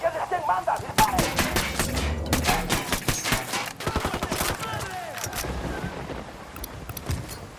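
Rapid gunfire from a firefight in Ghost Recon Wildlands, with dense volleys of shots through the first half that thin into scattered bursts and a rumbling game backdrop.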